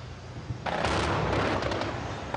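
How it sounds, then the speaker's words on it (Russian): A Tunguska-M1 air defense system opens fire on targets simulating aerial threats at a military exhibition range: a sudden loud, sustained roar of rapid cannon fire bursts in after a quiet moment and holds steady to the end. "в исходной позиции для ведения боевой стрельбы и открывает огонь Тунгусская М1"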